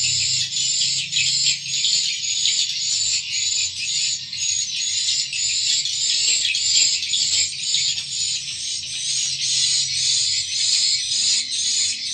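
Dense, continuous chorus of swiftlet chirps fills a swiftlet house, a high bright twittering that never pauses, with a faint low hum underneath and no talking.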